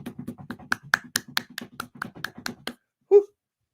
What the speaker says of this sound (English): Just clap and trample.